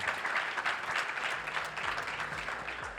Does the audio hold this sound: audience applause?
yes